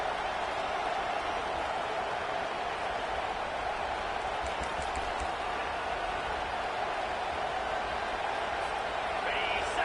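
A stadium crowd in a college football video game, a BYU online dynasty, roars in a loud, steady, unbroken wash of noise that holds at the same level throughout.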